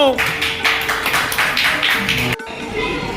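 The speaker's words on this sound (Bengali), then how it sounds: "হাততালি দাও" A crowd of underprivileged children at a Ganesh Puja charity event claps together, a steady dense patter of hands close by that runs for about two seconds and then carries on more thinly.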